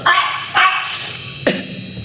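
A dog barks during an online board meeting, two close, loud barks followed by a softer third, with no talking over them.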